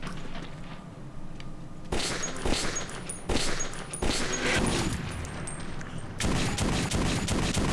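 Heavy volleys of gunfire in the video game Metro 2033, loud clattering bursts that surge and pause in waves, with faint shouting in the mix.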